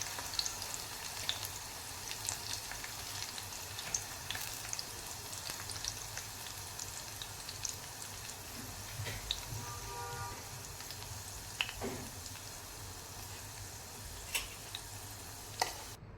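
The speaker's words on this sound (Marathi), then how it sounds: "त्याच्यानंतर मोहरी घातलेली आहे तेलामध्ये चार हिरव्या मिरच्या बारीक चिरून घातलेल्या आहेत" Oil with mustard seeds and chopped green chillies sizzles and crackles continuously with occasional sharp pops, a steady frying hiss close by.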